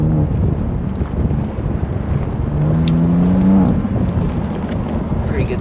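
Manual BMW G80 M3 pulling hard on an autocross run, a steady engine drone rising in pitch as it accelerates, with heavy wind buffeting across the microphone throughout.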